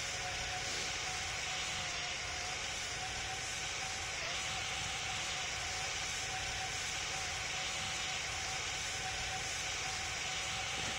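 Steady airplane engine drone in the Roblox flight game PTFS, a constant broad roar with hiss that holds level throughout, close and unbroken.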